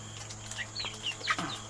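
Chickens on a farm eating fresh plant-based feed, giving scattered short clucks and chirps over a steady low hum, moderately near and without talk.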